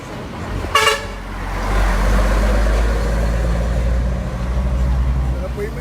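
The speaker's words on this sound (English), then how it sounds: "I have to put on earplugs because the horns from the trucks too loud." Trucks sound a loud horn blast at a street protest outside the Prime Minister's office, followed by the low rumble of heavy engines idling and moving nearby, with voices in the background.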